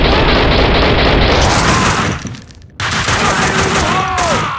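Heavy gunfire from a Max Payne 2 shootout, a loud dense barrage of overlapping shots that briefly thins out midway, then bursts back in at full intensity.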